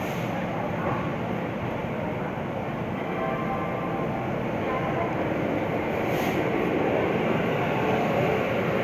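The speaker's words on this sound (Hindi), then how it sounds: "हम प्लेटफॉर्म नंबर 6 से हमारी ट्रेन का डिपार्चर ले लिया है" The Lucknow Chhapra Express, train 15054, runs after departing platform 6, a loud steady rumble and rattle of carriages heard from on board, with a faint voice in the background.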